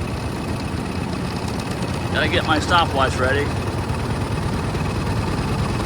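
Low, steady idle of a 100-year-old car engine rumbles at moderate level throughout, while someone talks briefly over it partway through.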